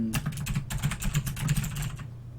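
Rapid typing on a computer keyboard while writing C# code, a quick, close run of key clicks that stops abruptly after about two seconds.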